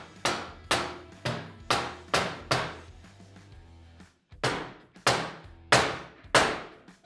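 Repeated hard hammer blows tap a motorcycle hardtail rear section into a Sportster frame, nine metallic strikes in two bursts with a short pause between, close and resonant, with no talk.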